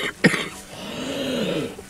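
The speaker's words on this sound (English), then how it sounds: "Hold on, I feel a cough coming on." A single sharp cough bursts out near the start, followed by a lingering low voiced sound like a short exhale or hum.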